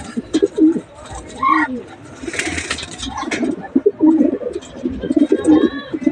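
Young pigeons, freshly bathed and still wet, coo in soft repeated bursts close by, mixed with rustling and light flapping, while a voice speaks intermittently.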